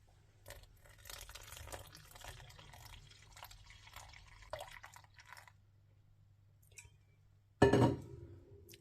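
Water is poured into a bubbly sourdough starter in a kitchen, with soft trickling and dripping, then a brief louder splash near the end, close and otherwise quiet.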